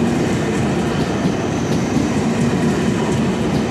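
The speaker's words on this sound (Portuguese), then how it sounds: "Olha, lá vem outro trem saindo daqui." A train rolls through Munich railway station, a continuous loud rumble of wheels on track with faint clicking and rattling of wagons, steady and close, with no talk.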